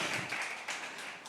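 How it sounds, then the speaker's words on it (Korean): An audience at a university youth church gathering claps together in a soft, steady patter that sounds faint and distant, with no voices over it. "이제 박수."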